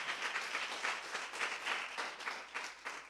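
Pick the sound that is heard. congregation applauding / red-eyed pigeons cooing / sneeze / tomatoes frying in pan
congregation applauding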